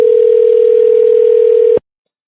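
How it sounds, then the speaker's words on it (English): A telephone ringback tone sounds on an outgoing call: one steady, loud, even tone lasting nearly two seconds, then abruptly cutting to silence. "You guys can hear that phone ring,"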